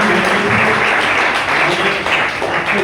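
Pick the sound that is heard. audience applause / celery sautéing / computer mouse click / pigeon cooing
audience applause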